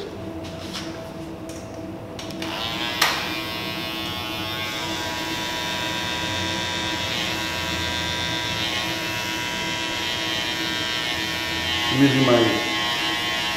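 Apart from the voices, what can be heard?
Andis cordless hair clippers cutting hair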